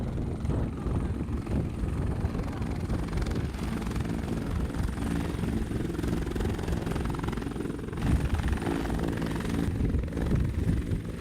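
A military helicopter works a casualty evacuation exercise with UK troops, its rotor thudding loudly and continuously over wind buffeting the microphone, without a break throughout.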